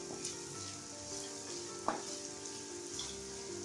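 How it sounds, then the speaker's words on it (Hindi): Four chilli pieces fry in a pan for Andhra ginger chicken curry, a soft continuous sizzle with light stirring and one sharper clink near the middle, fairly quiet and with no one speaking. "इसका साथ थोड़ा चार पीसेस चिल्ली पीसेस डाल दिए। बस इसको पूरा अच्छे से फ्राई करना पड़ेगा"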